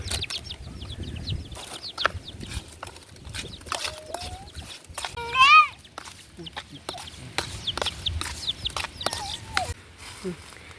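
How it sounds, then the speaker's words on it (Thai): A flock of chickens clucks and squawks around a rural yard, with scattered short calls throughout, a louder burst of crowing near the middle, and occasional wing flapping in the background. "ไก่หลาย"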